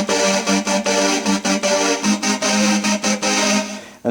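microKORG synthesizer chords for the baptism sound, a bright, dense sustained pad pulsing in steady rhythmic chops that shift between chords, loud and alone.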